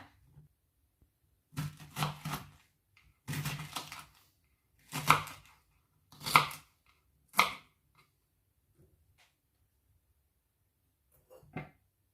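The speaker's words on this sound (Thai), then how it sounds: "ต่อไปเราก็จะมา หั่นกระเจี๊ยบเลยนะคะ" A knife chops okra on a board, giving a few short clusters of crisp knocks spaced over several seconds with quiet gaps between them and no voices.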